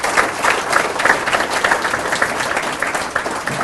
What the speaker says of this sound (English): Let's give them all a nice round of applause once again.